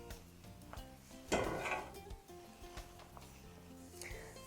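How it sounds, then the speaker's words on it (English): A rush of spaghetti sliding into a pan, with a soft clatter and metallic clinks of cookware before and after, nearby in a kitchen. "I'm going to go ahead and pour the spaghetti back into the pan."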